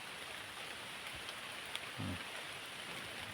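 Rain from a rainy-season storm falls over open rice fields, a soft, steady hiss with a faint low thump partway through and no voices.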